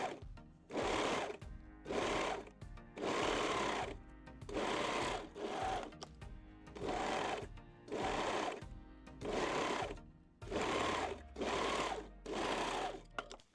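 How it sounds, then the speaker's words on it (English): A sewing machine stitching the side seams of a wire-free lace bra, running in about ten short bursts of steady whirring, each lasting roughly a second, separated by brief pauses, close and clear without talk. "And sew both side seams."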